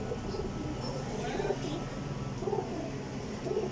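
Cheena pigeons coo softly in a loft, a faint, repeated low murmur over steady background noise, with a voice nearby.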